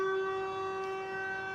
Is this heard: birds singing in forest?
no